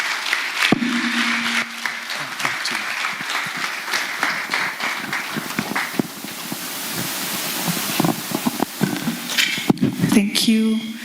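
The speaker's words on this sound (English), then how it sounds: "Dr. Musa a round of applause" Steady applause from an audience at a health insurance panel discussion lasting several seconds, with scattered claps and crowd murmur near the end.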